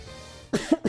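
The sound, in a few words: coughing to clear congestion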